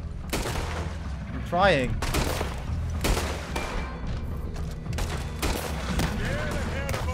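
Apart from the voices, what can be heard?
gunfire shooting at a legendary alligator in the video game Red Dead Redemption 2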